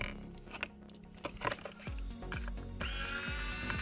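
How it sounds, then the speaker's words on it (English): An electric screwdriver works on the screws of an iPhone 14: a few faint clicks and taps first, then a steady motor whir that pulses in repeated rising spurts. "you can also use the 6-in-1 screwdriver to remove those screws here"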